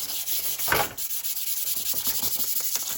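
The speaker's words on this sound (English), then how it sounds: "You don't have to watch me sand." A Scotch-Brite pad of 400-grit equivalent scrubs trim on a Chevrolet Suburban in steady back-and-forth strokes, a close, continuous hissing rasp with a regular rhythm.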